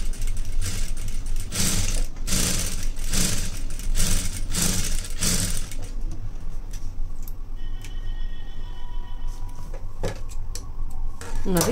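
A sewing machine stitching a plain blouse runs in a rapid mechanical clatter, loud and close, for about six seconds, then slows into lighter ticking and clicks with faint tonal whine.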